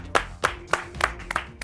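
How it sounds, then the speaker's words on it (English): A handful of separate, sharp hand claps ring out at an uneven pace in a live show setting, sounding like a small, brief round of applause rather than a full crowd. "Big round of applause for Amanda, ladies and gentlemen"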